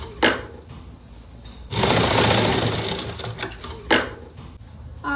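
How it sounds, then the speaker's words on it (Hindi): An electric sewing machine stitches a seam on trousers, with short bursts of rattling needle action bracketing a sustained run of steady stitching, close and loud. "हमने इस तरह से एक सिलाई लगा लेनी है थोड़ी दूरी पे"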